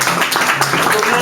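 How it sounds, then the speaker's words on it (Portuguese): A seated audience at a book presentation in Lisbon applauds a colonel, a loud, dense burst of clapping that is very brief, with voices mixed in. "eu peço uma salva de palmas"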